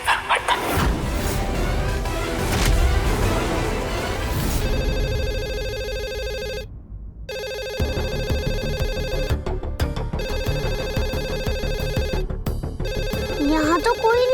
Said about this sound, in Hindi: मैं ही फोन उठा लेती हूँ।